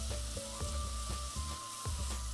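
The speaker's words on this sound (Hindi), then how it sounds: "प्याज को हल्का सा भूना, इसमें 1 बड़ा चम्मच अदरक लहसुन का पेस्ट डाल दिया।" Onion frying in a pan with a tablespoon of ginger garlic paste, for a multigrain khichda: steady loud sizzle with faint stirring knocks and a thin tonal hum running underneath, no talk.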